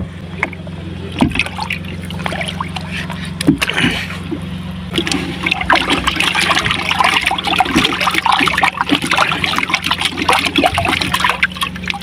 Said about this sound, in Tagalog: Ay wait lang, lagyan muna natin ng tubig.